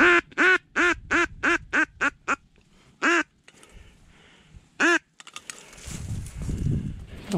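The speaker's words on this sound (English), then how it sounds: "I haven't been set up a full 20 minutes and there's just ducks everywhere." Mallard ducks on a Kansas marsh give a rapid series of loud, close quacks, then a couple of single calls after a pause, ending in rustling and wind noise.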